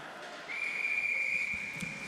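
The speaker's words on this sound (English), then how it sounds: "And the whistle is blown." A referee's whistle blows at a college ice hockey game, one sustained shrill blast lasting over a second, clear above a low arena murmur.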